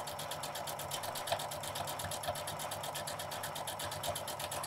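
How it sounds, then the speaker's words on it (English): Janome sewing machine with an edge guide foot, stitching along a fabric edge in a fast, even mechanical whir that runs continuously and quietly with no voices. "stitching along the edge of your item. I'm letting my machine do the work."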